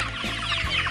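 Free-range hens on an egg farm of 4,000 chickens roaming 2,000 pyeong of land, clucking in a brief, fairly loud burst of overlapping calls.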